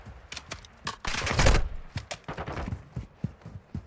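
A 7.62 rifle fires in a first-person shooter video game, in rapid bursts and single sharp shots that cluster heavily mid-way and then trail off into scattered cracks.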